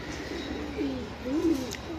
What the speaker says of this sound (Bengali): তো এই হইতেছে আপনার পাঁচটা বড় কবুতর